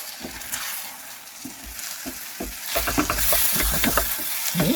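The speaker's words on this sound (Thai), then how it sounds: "อันนี้เราก็ได้ข้าวข้าวเหนียวผัดแล้วนะคะ" Steady sizzling with the scrape and clatter of a utensil stir-frying sticky rice in a hot wok, growing busier and louder toward the end.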